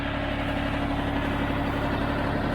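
A tractor with a two-point hitch idles in a steady, unbroken low engine drone with a constant hum, heard close and alone throughout.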